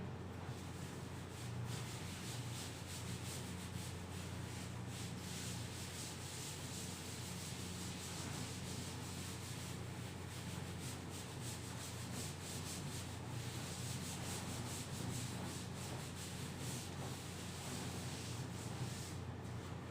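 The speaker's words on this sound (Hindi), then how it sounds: "इसको अब रब कर देते हैं।" Chalk or marker writing is rubbed off a classroom board, a steady soft scrubbing and swishing that runs continuously and faintly, with no voices.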